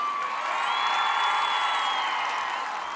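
A crowd cheers, whoops and applauds at the opening ceremony of the Ishonch credit-trade centre's Quva branch, a dense, loud, unbroken roar of voices with whistle-like shouts running through it.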